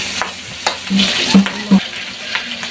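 Onions and ginger, with garlic already browning in the pan, sizzle and get stirred, giving a loud continuous hiss broken by a few scraping clatters of the utensil.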